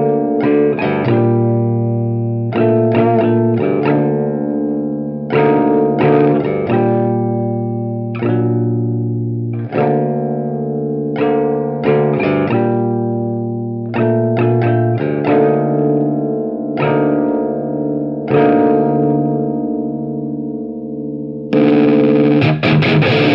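Electric guitar through a KarenX effects pedal, clean-edged driven notes and chords played in short phrases with gaps between, ringing with sustain, loud and close and alone.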